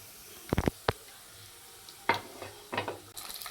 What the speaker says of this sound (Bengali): গোটা জিরে ফোড়ন দেওয়া হলো।